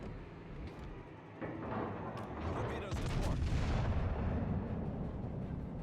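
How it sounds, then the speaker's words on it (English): Heavy high-explosive shell impact on a warship in a naval combat game, a loud broad blast with rumbling low-end debris that swells around the midpoint and lingers under battle noise. "Conch got an HE shot into us."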